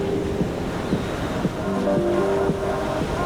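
Surf at Polo Beach in Wailea, Maui, heard from a perch above the white sand as a steady wash of waves, with light wind rumble on the microphone.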